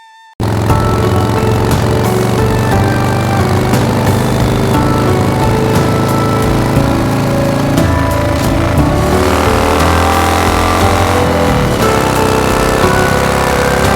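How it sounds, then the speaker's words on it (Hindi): A motorbike ridden at high speed, its engine droning loud and continuous with shifting revs, alone without any voices. "उनकी नई शरारत थी तेज रफ्तार से बाइक चलाना।"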